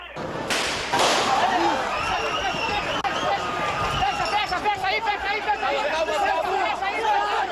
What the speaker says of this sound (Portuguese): ele está atirando agora, mais um tiro